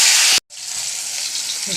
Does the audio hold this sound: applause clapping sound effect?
no